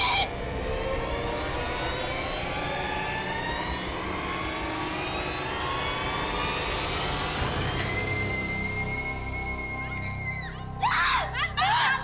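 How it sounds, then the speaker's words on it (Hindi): A woman screams in sustained, rising and wavering shrieks at close range, loud throughout, ending in a burst of sharp higher cries. "आप इतना चीख क्यों रही थी?"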